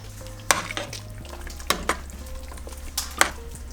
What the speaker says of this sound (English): And then I'm gonna stir that in.